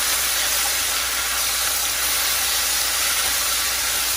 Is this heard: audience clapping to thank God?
no